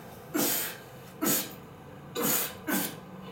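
Four short, breathy coughs spaced roughly a second apart from a person practising duck calling, close to the mic in a quiet room.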